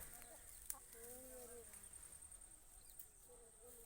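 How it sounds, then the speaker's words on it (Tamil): Chickens cluck softly in short, scattered calls against a faint background of insect buzzing and a high steady hum, with low voices briefly audible. "எனக்கு கோழியெல்லாம் மேய்ஞ்சிட்டு இருக்குதா"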